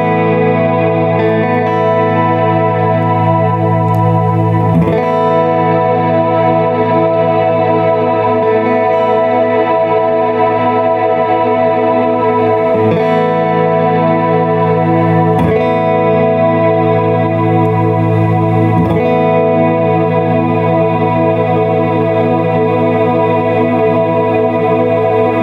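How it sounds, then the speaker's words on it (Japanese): Strymon BigSky reverb guitar pedal swept heel to toe with an expression pedal, a sustained processed guitar wash with swelling, shifting reverb tails and a few soft chord attacks, loud and steady throughout. "リバーブのエフェクト音の、広がり方というか、リバーブ音自体のディレイといったらいいんですかね"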